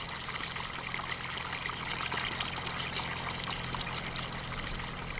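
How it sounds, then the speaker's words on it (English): Steady water trickles in Farming Simulator 19, on the Italian Rice XL console map, a soft continuous stream of running water that stays even and moderately faint throughout, with no speech. "I have no idea why there's water sounds right now."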